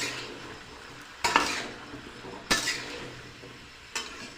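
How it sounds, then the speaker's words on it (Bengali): Cauliflower and potato with salt frying in a pan, a low steady sizzle broken by three evenly spaced scraping clanks of a spatula stirring against the metal. "এই ফুলকপি আলুটা ভাজতে একটু সময় লাগবে"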